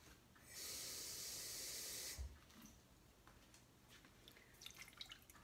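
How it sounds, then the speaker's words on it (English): Water runs from a kitchen tap into a container for a half cup, a steady bright hissing stream lasting about a second and a half before it shuts off, followed by faint kitchen handling noises. "I'm also going to need a half cup of water, so I'll just go get that from the tap."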